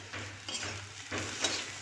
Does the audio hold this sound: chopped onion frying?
yes